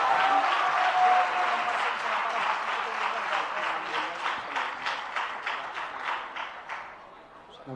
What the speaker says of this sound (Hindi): लेकिन एक बार तालियां सबके लिए जोरदार।